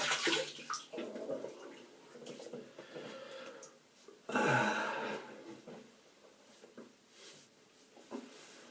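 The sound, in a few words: water splashing while rinsing face before shaving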